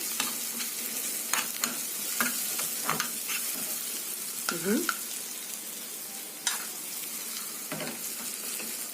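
Garlic frying in oil for Egyptian koshari garlic sauce, a steady close sizzle broken by several sharp stirring clacks and scrapes against the pan.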